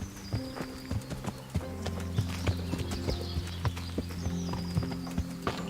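Horse hooves clip-clopping in Kingdom Come: Deliverance, a steady rhythmic series of hoofbeats at walking pace, close and distinct over a low background tone.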